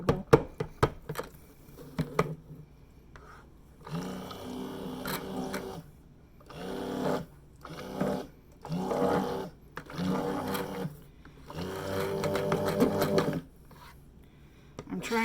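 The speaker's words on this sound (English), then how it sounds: "I'm trying to find the lumps and just blend those." A hand blender whirs in repeated short bursts as it works through lumps in a thick soap mixture, with brief pauses and scraping between pulses at a moderate level nearby.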